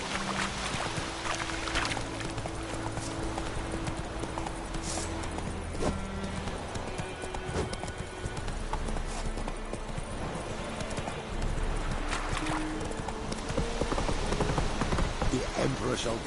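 Roach the horse gallops in The Witcher 3, hoofbeats clip-clopping steadily throughout under a constant layer of game ambience and music, with no clear talk over it.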